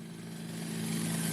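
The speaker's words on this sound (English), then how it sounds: "Shinra helicopter flying towards Sector 7." A helicopter flies in the video game Final Fantasy VII Remake, a steady droning engine hum with a low rotor buzz that swells slightly louder over a short stretch, heard alone without talk.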